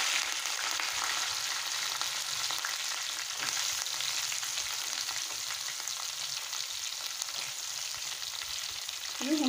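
Onions and garlic frying in oil in a pan for Karnataka-style tamarind rice; a continuous, moderately quiet sizzle with occasional stirring scrapes and a small clink near the end, no talking.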